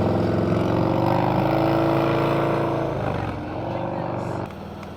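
A motorcycle at a motorcycle rodeo holding its engine at high revs, a loud sustained droning whine close by that eases down toward the end, with talk over it.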